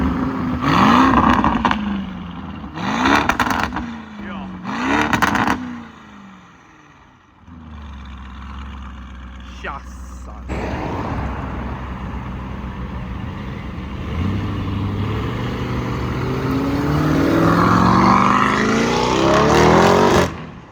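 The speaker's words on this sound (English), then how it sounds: "There's a Lamborghini Urus coming through." A Lamborghini Urus fitted with a loud Novitec custom exhaust barks through three sharp revving bursts, goes briefly quiet, then roars past and drives on with a sustained, rising engine note.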